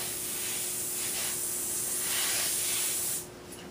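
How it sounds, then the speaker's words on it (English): Running water rinses a hydrographic-dipped piece over a sink as a loud, steady close hiss of spray that cuts off abruptly near the end. "I'm just rinsing over the sink."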